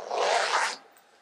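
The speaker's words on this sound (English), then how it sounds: "Ooh, zipper noise." A zipper on a package is pulled open in one quick, continuous rasp lasting under a second, close and clear, followed by quiet.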